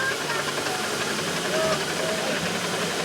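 A miniature 4-inch Burrell single-cylinder steam engine hisses continuously at a steam gathering, a broad, steady rush of steam that stays close and even throughout, with voices faintly underneath.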